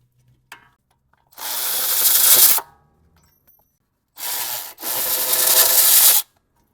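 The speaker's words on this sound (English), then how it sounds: "now we're going to go ahead and take off the caliper bracket from the two bolts back here." Power tool working loose the two 17 mm caliper bracket bolts on the front brakes of a 2018-2023 Hyundai Kona AWD, heard as two loud, sustained whirring-rattling bursts of about one and two seconds separated by a short pause, with no talking.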